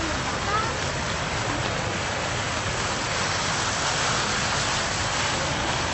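Water fountains in historic Vigan City splash and pour without a break, a loud, dense, rushing hiss that stays steady from start to finish.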